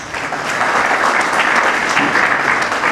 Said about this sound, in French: M. Koli, sous vos applaudissements.